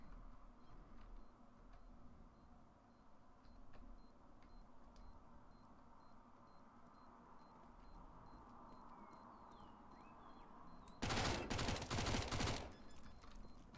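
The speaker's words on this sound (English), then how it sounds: "I love this fucking MAC-10, it's great" A MAC-10 submachine gun fires in Counter-Strike: Global Offensive on the Inferno map, a loud dense burst of rapid automatic fire lasting about a second and a half, following quiet ambient game background with faint ticking.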